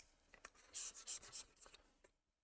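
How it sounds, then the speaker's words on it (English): Marker being wiped off a whiteboard, a run of close, quick rubbing strokes for about two seconds that trails off at the end. "So I'm going to go ahead and erase this."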